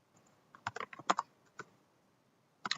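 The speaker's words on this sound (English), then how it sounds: "you can type this into your calculator" Quiet, close tapping of buttons as numbers are entered into a calculator, a short irregular run of clicks with a pause before one last press.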